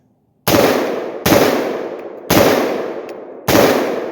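Four loud, sharp rifle shots ring out one by one at irregular intervals, each with a long echoing tail, fired from a 5.56 rifle with a 13-inch barrel and a Corvallis linear compensator.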